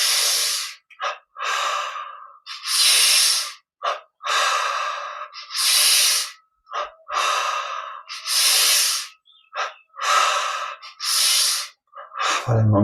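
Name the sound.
breathing in and out during a yoga energization exercise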